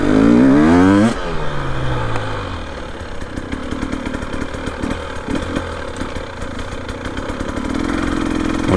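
A Husqvarna TE300 Heritage Edition dirt bike with an FMF Fatty pipe spins its rear wheel for traction on a tight trail, a loud close rev dropping into a choppy, sputtering two-stroke engine note that climbs again at the end.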